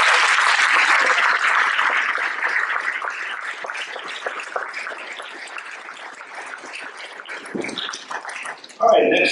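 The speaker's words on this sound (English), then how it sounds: "Another round of applause, please." Sustained audience applause fills a school fall awards ceremony hall, loud and dense at first, then gradually thinning and tapering off before a brief new noise near the end.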